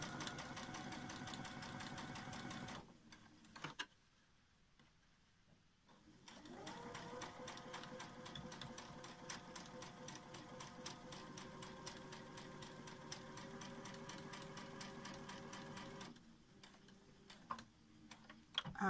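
A sewing machine stitches fabric for a face mask, a steady rapid mechanical whir with a short pause early on, then a long continuous run before stopping, close and clear with no talking.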